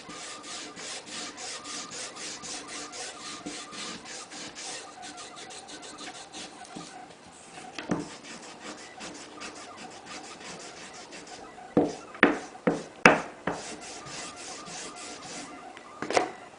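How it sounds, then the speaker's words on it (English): Steady rhythmic rubbing as black and green polishing compound is worked onto a leather strop, a dry scratchy back-and-forth close by, ending with several sharper knocks. "And then apply the finer green compound to the other side."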